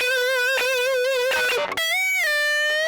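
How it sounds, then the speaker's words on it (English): Electric guitar run through two Tube Screamer overdrives into a Fender Dual Showman Reverb amp with no speaker cabinet, a few sustained bent notes with vibrato, loud and alone, with a brief dropout near the middle. "What I captured into the profiler was the sound of 2 tube screamers feeding my Fender Dual Showman"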